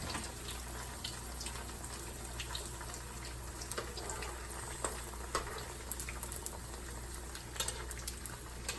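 Peach cobbler eggrolls fry in hot oil, two at a time, giving a steady dense bubbling sizzle with small scattered pops, close and even throughout, with no talking.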